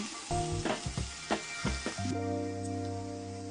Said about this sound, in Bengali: আদা কুচি দিয়ে দেবো 1 চামচ। ভালো করে ফ্রাই করে নেব।